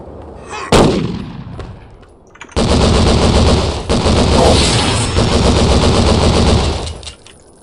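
Gunfire in the video game Devastation: a loud close blast, then long sustained bursts of rapid automatic fire with a short break midway, dense and without talking.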